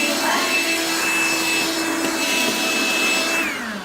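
A G-Tech HV01 9.6-volt cordless handheld vacuum runs with a loud, steady motor whine and airflow roar close up, its pitch dipping slightly toward the end.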